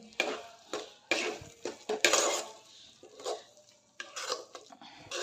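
Sweet corn being sautéed in a pan for paratha, heard as irregular scraping and clinking of a spatula against the pan in separate bursts, close and fairly quiet.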